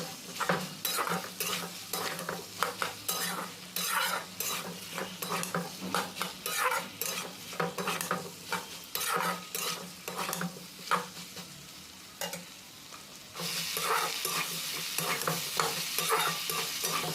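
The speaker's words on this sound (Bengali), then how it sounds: "টমেটোর দিয়ে টমেটোটা ভালো করে মিক্স করে নিতে হবে" Tomatoes with ginger and garlic are stirred in a frying pan for aloo palak, a spatula scraping and clacking rhythmically over a steady sizzle, with a brighter burst of frying near the end.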